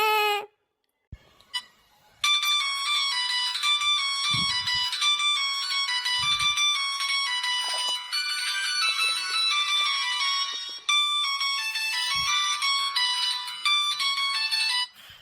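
A phone ringtone plays a repeating electronic melody, loud and steady, after a few brief clicks and thumps at the start.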